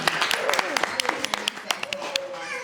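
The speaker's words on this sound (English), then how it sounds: "Give them another round of applause." Audience applause at a community event on Black entrepreneurship, a round of scattered claps with sharp hand strikes, fairly close, mixed with talk and cheering voices.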